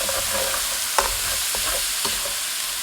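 Garlic and minced onions stirred into butter in a skillet over medium-low heat give a steady, close sizzle, with a few scraping clicks from the stirring and no voices.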